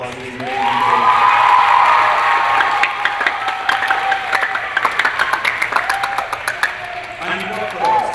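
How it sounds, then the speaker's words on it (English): An audience claps and cheers after a school stage play, a sustained round of applause with some whoops that continues steadily while a voice speaks over it near the start. "Can we get another huge round of applause, please?"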